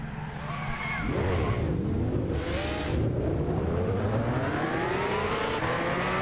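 A race car launches hard and accelerates in Gran Turismo 6, its engine note climbing steadily through the gears, loud and continuous with rising pitch, with a brief tire skid near the start.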